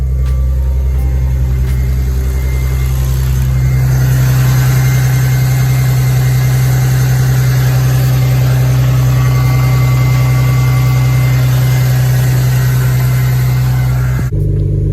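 A BMW E46 with a newly fitted turbocharger settles into a steady, loud idle from close by. The engine note holds constant, and at the end the engine abruptly cuts off.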